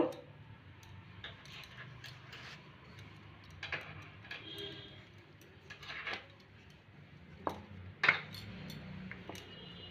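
A rolling pin works small pieces of Bengali labongo latika dough into rounds like luchi on a bare board, with faint, scattered knocks and light clicks at uneven intervals and a few sharper taps.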